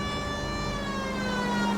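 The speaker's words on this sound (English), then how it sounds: "that siren shit comes in handy to get them out of my way" A police car siren from the LA Noire video game wails steadily and loudly, its tone gliding slowly in pitch throughout, with no talking over it.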